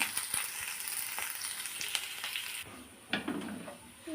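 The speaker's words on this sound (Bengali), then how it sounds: "পেঁয়াজ কুচি আর যে আর একটা আদা কুচি ভেজে নেবো সুন্দর করে" Chopped onion and ginger fry in a pan, a steady close sizzle with occasional clicks of stirring, easing slightly quieter toward the end.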